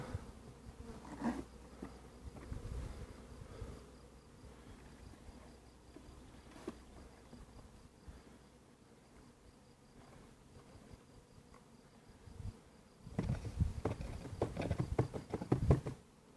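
A swarm of honeybees clustered while building their comb, being collected by a beekeeper, gives a steady low insect hum with scattered rustles, swelling louder and busier near the end.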